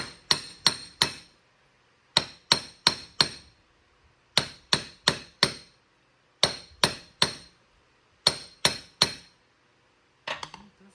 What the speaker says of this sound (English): Can't believe I'm hammering on a gear for a YouTube video.